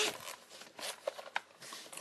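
A zipper on a SCUF Gaming controller case, its pulls bearing the brand logo, rasps open in short, quiet scratchy bursts with brief pauses, heard alone and close up.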